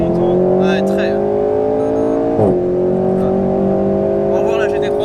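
Alpine A110 sports car pulling hard on throttle on a circuit, a steady loud engine drone with rising tones heard from inside the cabin, with people talking over it.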